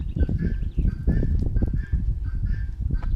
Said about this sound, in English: except for the guinea fowl.